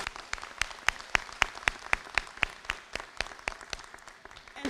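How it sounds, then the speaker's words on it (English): At a pre-kindergarten graduation, an audience gives sparse applause, with distinct individual claps standing out in a fairly steady rhythm over a thin background of clapping, moderately loud. "So let's give that a round of applause."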